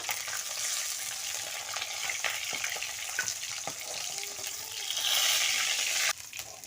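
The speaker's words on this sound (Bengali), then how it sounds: "আমার এক পাশ ভাজা হয়ে গিয়েছে আমার মাছটা ভাজা হয়ে গেছে" Bata fish sizzles steadily in hot oil in a home kitchen pan for a Bengali curry, a dense continuous crackle with occasional sharper pops and a brief louder surge near the end, no voices.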